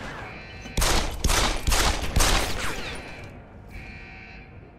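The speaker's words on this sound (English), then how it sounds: "Oh, shotgun." Shotgun fire in a video game, heard as a rapid cluster of four or five loud, close blasts with ringing tails, fading into a quieter background hum, and no one talking over the shots.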